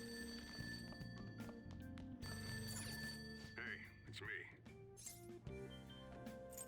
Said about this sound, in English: Ah, this ringing sound. It's not from my phone. It's coming from downstairs.